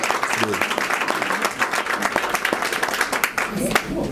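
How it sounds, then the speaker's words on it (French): Dense, steady applause from an audience at a political gathering in Thiès, Senegal, continuing loudly for several seconds, with a voice faintly underneath. "Veuillez l'applaudir."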